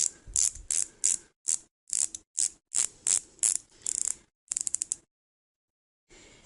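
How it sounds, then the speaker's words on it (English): Unidirectional rotating bezel on an Invicta Pro Diver 0070 stainless steel chronograph watch clicking as it turns, about a dozen close, crisp ratcheting bursts in quick succession, then silence and one last short burst. "the unidirectional bezel."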